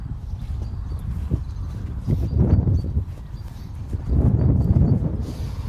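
A young horse canters toward its first jumps, hooves thudding in a soft rolling rhythm on the ground, moderately close, with the beats swelling louder in two bursts.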